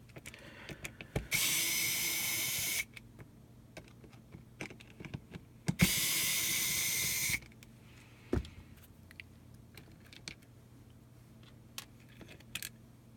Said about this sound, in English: what we want to do is take these 2 screws out right here.